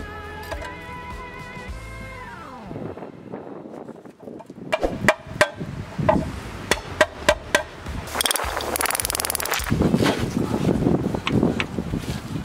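A part is punched into the front differential of a Toyota Tacoma during a 4.88 gear install, heard as a series of sharp metallic hammer strikes, close and uneven in rhythm, over outdoor wind noise and shop rumble, with no talking.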